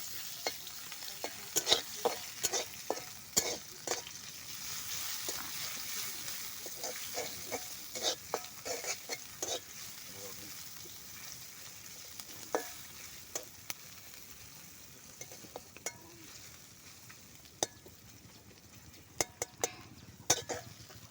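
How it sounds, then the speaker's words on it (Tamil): Onions and curry leaves fry in a pan for a chapati meal, a steady sizzle broken by repeated sharp scrapes and clicks of a spoon stirring against the pan, close and fairly loud throughout, with no talking. "வெங்காயம் நல்லா வதங்கிடுச்சு"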